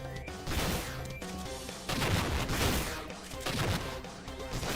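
Rapid bursts of explosions in the video game Iconoclasts, dense crashing blasts repeating in waves with no speech.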